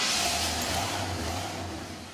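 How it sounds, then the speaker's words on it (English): 1968 Pontiac Catalina engine running with a steady low rumble and broad exhaust roar that slowly fades slightly, heard nearby with no talking. "That sound is music to Pontiac fanatic Greg White's ears"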